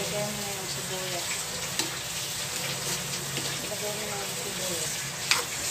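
Onions frying in oil in a pan make a constant close sizzle with light crackles and a few faint clicks from utensils, and a voice murmurs faintly in the background.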